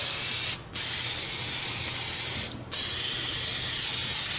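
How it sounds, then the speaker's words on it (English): Canola oil sprayed from a can onto a whole wild hog, two long loud hissing bursts separated by brief pauses, close and alone. "I'm going to spray this side as well"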